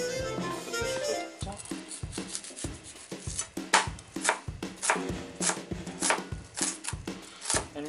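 Knife chopping an onion on a cutting board, sharp, steady, fairly close strikes in a quick rhythm, with faint talk at the start.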